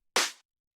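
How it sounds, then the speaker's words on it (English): A single hard-hitting, crunchy clap sample of the tech house kind: one sharp, bright burst with a short noisy tail that cuts off quickly into silence. "hard-hitting and crunchy clap like this."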